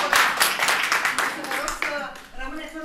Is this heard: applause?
yes